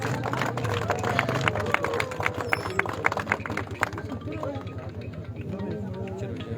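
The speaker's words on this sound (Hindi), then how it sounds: "एंड ये रनर अप का बोर्ड एंड कैश प्राइज एक बार फिर से तालियां होनी चाहिए" Crowd claps in dense, fast applause for the runner-up team at a cricket super league final ceremony, loud at first and thinning into scattered claps with murmuring voices beneath.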